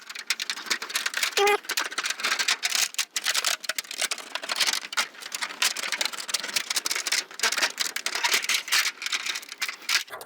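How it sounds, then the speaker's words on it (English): Scissors snipping through a clear Lexan Pandora RC car bodyshell, a steady run of close, crisp crinkly cuts and rattles with no pauses, heard alone. "So I'm going to take my scissors"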